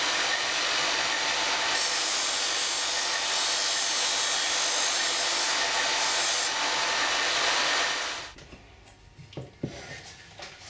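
A disc sander grinds steadily against a wooden block for a guitar build, a loud continuous rasping whir for about eight seconds, then cuts out and leaves a few faint knocks and handling sounds.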